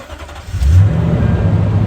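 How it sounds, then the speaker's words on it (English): A 2007–2013 Toyota Tundra pickup cranks and catches, its engine firing up loudly close by and settling into a steady low idle rumble. "We're just going to start the truck"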